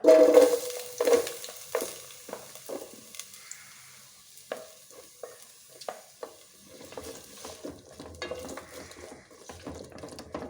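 Onions tossed into hot oil in a pan for bread egg masala, with a sharp initial sizzle that settles into a faint crackle broken by intermittent scraping stirs and clinks, no talking.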